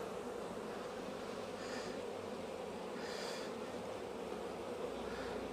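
Honey bees buzz at an open hive during a colony check and feeding, a steady close-up hum that continues without a break, with a couple of brief swells as single bees pass near.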